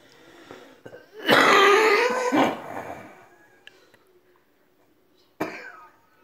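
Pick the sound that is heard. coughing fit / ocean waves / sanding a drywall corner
coughing fit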